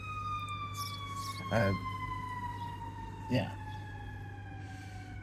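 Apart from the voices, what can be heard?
fire truck siren passing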